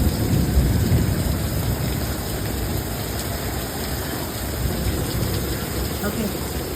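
Heavy rain pours down during a severe thunderstorm, a dense steady wash of noise with low rumbling beneath, moderately loud, with people talking faintly nearby.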